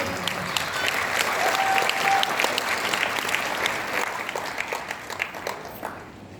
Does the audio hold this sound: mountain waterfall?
no